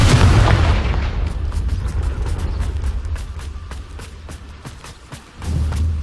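A Confringo spell cast in Hogwarts Legacy bursts with a loud, low booming blast at the start, then settles into a rumbling tail with a series of sharp crackles and pops, and a second low surge near the end.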